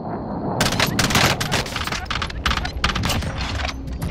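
Rapid gunfire in the battle royale shooter Warzone, bursts of sharp, close shots crackling almost continuously over a few seconds, with a voice speaking faintly underneath.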